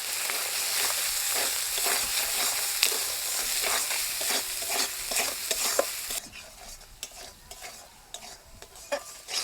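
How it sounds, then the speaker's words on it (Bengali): Spice paste of ground green and dried chillies with salt and turmeric fries in a pan, giving a steady loud sizzle with repeated scraping stirs. The sizzle drops noticeably partway through as the stirring continues alone. "মশলা ভাজা হয়ে গেছে"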